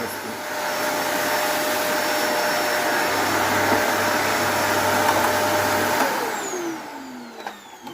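An Electrolux Cleen500 EB51C2DB vacuum cleaner roars at full power, a loud steady whoosh lasting several seconds before winding down with a falling whine.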